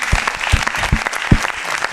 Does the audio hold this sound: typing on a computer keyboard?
no